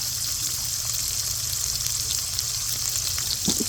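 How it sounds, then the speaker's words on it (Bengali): Sliced onions sizzle in hot oil in a kadai for chicken tehari, a loud, continuous close-up frying hiss with no talking. "আমরা পেঁয়াজটা একটু ব্রাউন কালার করে ভাজবো"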